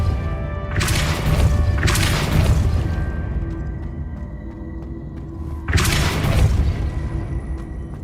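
Depulso spell impacts in the Hogwarts Legacy video game land as three loud, crashing bursts, two in quick succession and another a few seconds later, each trailing a short booming decay over quiet background music.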